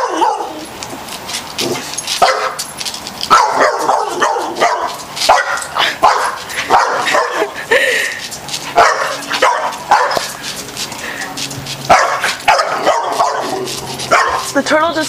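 A dog barks repeatedly and yips while being chased by a turtle, loud close barks in quick bursts with people talking and exclaiming over them.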